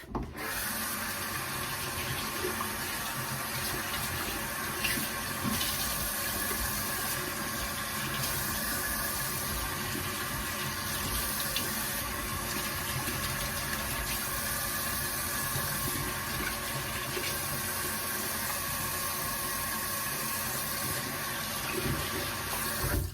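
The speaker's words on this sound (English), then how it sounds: "And now I'm going to go in and rinse my face off." Tap water runs steadily into a sink while a face is rinsed after makeup removal, a close continuous rushing and splashing that lasts throughout with faint rubbing and no speech.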